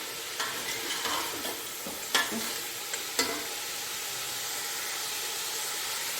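Beef and tomatoes for beef pulao cook in a pot with a steady, soft sizzle and hiss, broken by a few sharp stirring clinks and scrapes.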